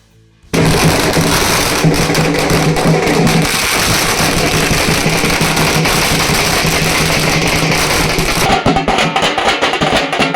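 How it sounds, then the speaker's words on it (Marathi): Firecrackers burst continuously and loudly at a village welcome celebration held with dhol-tasha drums, a dense crackling barrage of rapid pops and bangs that runs nearly the whole clip before thinning out near the end. "राजाभाऊ वाजे यांचं ढोल ताशांच्या गजरात वाजत गाजत फटाक्यांच्या आतिषबाजीत जल्लोषात स्वागत करण्यात आलं"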